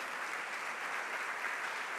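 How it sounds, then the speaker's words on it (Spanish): A church congregation gives steady, continuous applause during a Spanish-language sermon, a dense wash of many hands clapping at even volume with no speech over it. "¿Por qué no le da un aplauso al Señor?"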